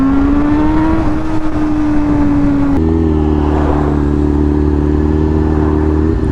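Honda CBR sport motorcycle engine, fitted with Ram Air and riding in cold weather, runs at a steady loud drone before it shifts to a lower, fuller rev and holds there.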